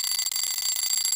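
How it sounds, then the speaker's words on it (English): An electronic alarm beeps in a quick, steady, high-pitched pulsing pattern, close and fairly quiet, with no voices over it. "have you heard the alarm?"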